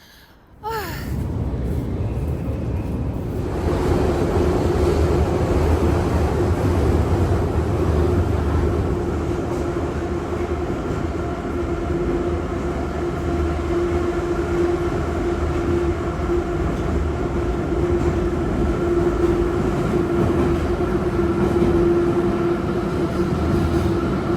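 A Kyiv metro train rolls along underground with a loud, steady rumble and roar that swells in after a quiet start and holds evenly throughout, with no clear talking.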